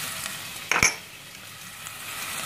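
Garlic-ginger paste and turmeric fry in a pan as a utensil stirs, giving a soft steady sizzle with one brief louder scrape or clink near the start, no talk.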